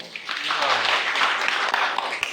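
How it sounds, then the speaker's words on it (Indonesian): A seminar audience applauds in a dense, continuous wash of clapping, with a voice talking over it near the end. "Tepuk tangan dong."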